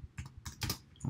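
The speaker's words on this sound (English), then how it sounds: "I'm going to type in my debit column, my credit column, and my balance column." Quick bursts of key clicks from typing on a computer keyboard while entering debit, credit and balance column headings in an accounting ledger, close and fairly quiet, in irregular clusters with no talking.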